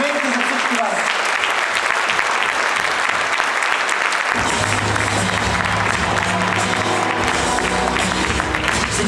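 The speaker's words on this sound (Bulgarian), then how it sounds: "Аплодисменти за всички вас!" Loud, sustained crowd applause fills a hall at the 'Creator of the Year 2025' awards evening, continuous dense clapping with a low musical hum joining partway through.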